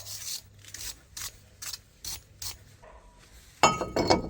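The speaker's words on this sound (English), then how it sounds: "next we're going to do is we're going to clean the area with the wire brush." Wire brush scrubbing the brake disc mounting area on a Nissan Note front hub, in about eight short, bright rasping bursts at a steady rhythm, finishing with a louder, harsher stretch of scraping with metallic clinks.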